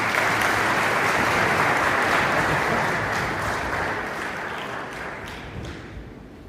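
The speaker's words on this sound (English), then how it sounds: "please once again a huge round of applause for Mr. Akhtar Javed" Sustained applause from an audience at the 4th Pakistan Remittance Summit 2024 in Rome, Italy, a dense, steady clapping wash that gradually fades toward the end.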